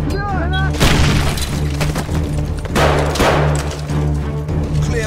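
A frag grenade goes off in Call of Duty: Modern Warfare 3, a heavy booming blast with a shattering crash, loud and near over steady combat background, with a second thudding impact partway through.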